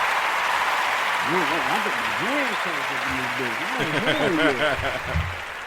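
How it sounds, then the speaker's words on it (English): Steady applause fills the space for several seconds while a voice talks over it, the clapping forming a dense, even wash beneath the speech. "Round of applause."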